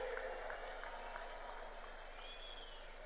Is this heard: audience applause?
yes